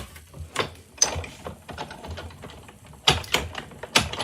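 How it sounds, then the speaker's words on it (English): A die-cutting machine runs sugar cube cardstock through its rollers for a card project, giving a steady mechanical grinding with repeated sharp clicks and clacks, close and fairly loud, with no talking. "I'm going to cut this out of sugar cube cardstock"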